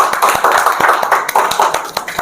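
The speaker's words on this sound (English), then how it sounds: "Now let's have a big round of applause for our student Rashmi." An audience claps for a student at a spoken English course ceremony, a moderately sized group whose individual sharp claps stand out in an uneven, lively patter.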